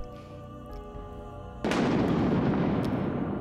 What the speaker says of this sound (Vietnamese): Một tiếng sét nổ vàng Xé toạc thanh không